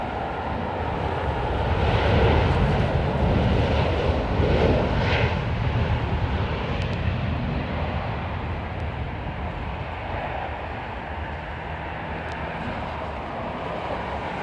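A Boeing 787 airliner at snowy London Heathrow gives a steady, moderately distant engine roar and whine that swells early and then eases to a lower, sustained rumble.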